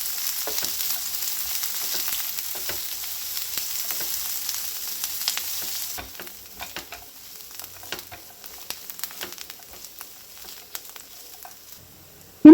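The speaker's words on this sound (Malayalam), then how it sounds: "പിന്നെ ഇതിലേക്ക് ഒരു സവാള ചെറുതായി അരിഞ്ഞതും കൂടി ചേർത്ത് ഒന്ന് വഴറ്റിയെടുക്കാം." Chopped onion and cashews sautéing in coconut oil in a pan for a chicken curry, a steady close sizzle with frequent crackles and pops, quietening partway through, with stirring scrapes and a sharp knock at the very end.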